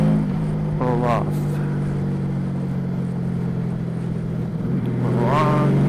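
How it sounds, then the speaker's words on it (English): A motorcycle engine runs at a steady drone while the throttle is rolled on and off. Two quick revs rise and fall over the constant engine note, heard close. "some quick roll on to roll off the throttle"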